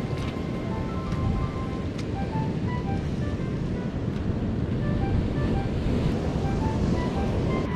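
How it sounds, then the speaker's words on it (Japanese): Ocean surf washes into a rocky tide pool on a Hawaiian shore, a continuous broad roar of water with wind buffeting the microphone and a faint electronic tone pattern above. "おお、波が来た、波が来た。"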